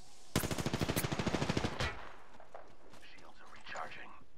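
Rapid automatic gunfire in a video game rattles off in a fast burst of about fifteen shots, followed by quieter game sounds and a player's speech.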